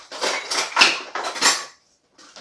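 A metal spoon scraping scalloped potato sauce from a baking dish, a quick series of five or six sharp scrapes and clinks up close, a short pause, then one more scrape.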